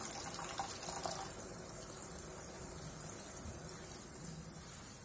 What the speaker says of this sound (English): Add in more water to make a thin gravy.